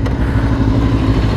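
Motorcycles, sport bikes such as a Yamaha MT-10, Suzuki GSX-R and Kawasaki Z, rumble past in a steady, loud engine roar close by with a clattering edge, and no talk is heard.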